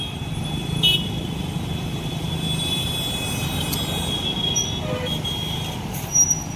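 Evening road traffic beside a petrol station, with a steady engine rumble from many passing vehicles, a few brief horn toots and faint squeals at moderate distance.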